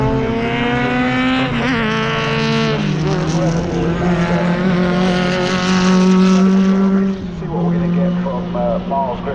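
Historic Grand Prix race cars scream around Donington Park during qualifying, engines revving loud and high with gear-change dips, close and continuous, while a commentator talks over the noise.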